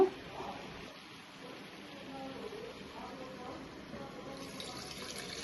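Tamarind juice poured into a pot of Nellore-style sambar, a soft steady trickle and splash of liquid heard at low level with background noise and faint voices.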